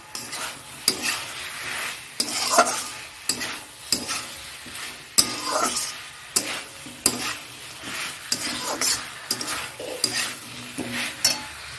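Rohu fish curry masala fries in a pan at a home birthday cooking session. A spoon scrapes and stirs in repeated sharp strokes over a soft, steady sizzle, close and moderately loud, and no one speaks.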